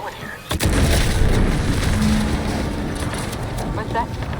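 Explosion in The Outer Worlds 2, a sudden sharp boom followed by a long, loud rumbling roar that slowly fades, with faint game sounds after.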